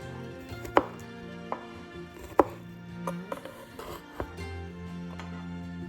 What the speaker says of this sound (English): we'll chop roughly 4 cloves of garlic